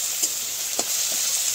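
Tomatoes stirred and lightly fried in a pan over a village clay stove, a soft steady sizzle with a few brief scraping strokes, close and moderate, no talking.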